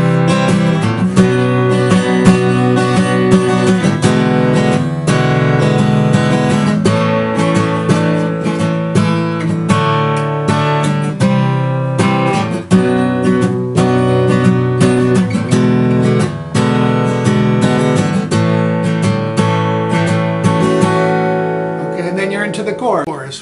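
Acoustic guitar strumming the chords of a song, a steady, busy rhythm of full close-up strums with bright ringing strings that carries on for over twenty seconds and fades at the end.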